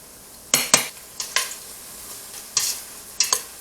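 Food frying in hot oil for a Creole, African or Asian dish gives a soft background sizzle, broken by several sharp clanks and scrapes of a utensil stirring or lifting pieces, with no talk.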